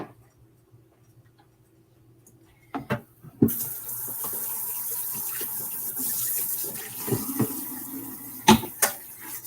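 Dishes are washed up at a kitchen sink. After a quiet start and a couple of clunks, a tap runs steadily with a hiss, broken by occasional knocks and clatter of items being handled.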